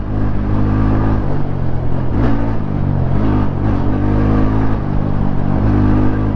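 A naked motorcycle's engine drones and revs steadily during a ride, loud and close throughout with a constant low rumble and slight swells in pitch, with no talking over it.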